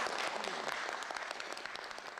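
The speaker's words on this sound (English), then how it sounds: "There'll be more applause." A crowd of extras applauds on the film set of Martin Scorsese's Kundun: a steady wash of clapping, moderately distant and fairly quiet, with no distinct voices.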